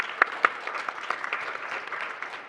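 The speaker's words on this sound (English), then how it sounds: "Please give them a big round of applause." An audience at the Global Korea Forum gives brief applause, a few sharp claps up front followed by scattered, moderately loud clapping that continues for a couple of seconds.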